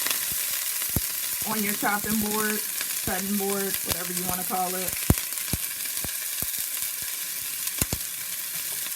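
Constant crackling sizzle of onions frying in a pan, with sharp pops and stirring clicks, while a person talks over it.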